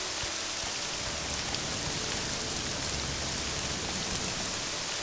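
Rainfall in the video game The Elder Scrolls III: Morrowind makes a steady, dense hiss of drops that holds even throughout, with no voices.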